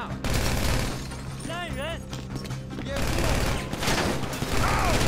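Uzi submachine gun fire in the video game GTA 5, rapid bursts sounding loud and close amid a busy game soundscape, with speech mixed in.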